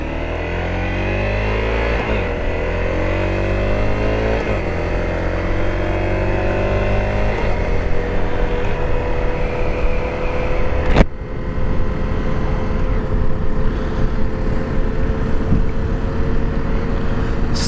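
A Honda CRF250L single-cylinder dual-sport motorcycle engine pulls through the gears on a ride, loud and close, with rising-and-falling rev sweeps, a brief break at a gear change, then a steadier drone.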